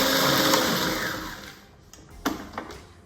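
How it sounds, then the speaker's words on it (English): A blender blitzes almonds and dry ingredients for dairy-free granola cookies, a loud steady whir for over a second that fades down, followed by a few short knocks and clatters. "we'll give that a bit of a blitz up as well before we add some of our wet ingredients"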